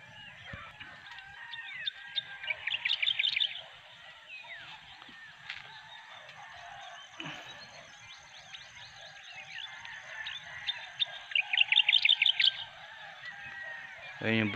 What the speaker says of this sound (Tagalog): Puro uhuni ng ibon yung maririnig yun dito.